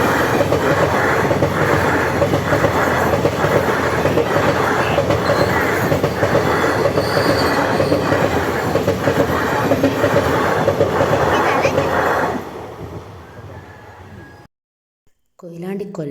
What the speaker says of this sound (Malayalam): ഇവിടെ നമ്മൾ റെയിൽവേ ഗേറ്റിൻ്റെ അവിടെ കൂടി ട്രെയിൻ പോകാനുണ്ട്